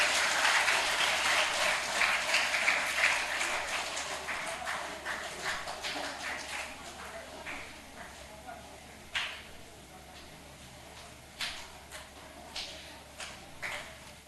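A crowd claps to welcome speakers at a gathering. The applause starts loud and dense, then thins into scattered, fading claps, with voices faintly present.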